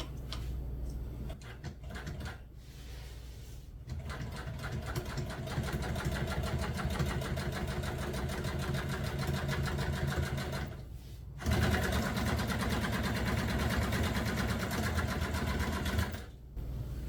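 A sewing machine stitches heavy upholstery fabric in long rapid runs, its motor whirring and needle clattering rhythmically, broken by brief pauses between bursts.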